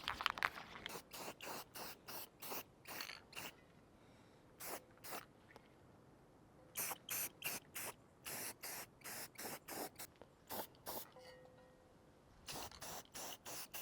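Short bursts of high performance enamel spray painted onto a dump truck floor, quick repeated hissing blasts in an uneven rhythm with brief pauses, close and fairly quiet.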